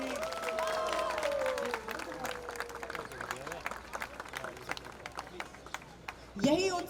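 A crowd at a garden beautification inauguration in Juhu claps and cheers through a steady patter of applause, with a voice speaking over the top early on and a louder burst of noise at the end.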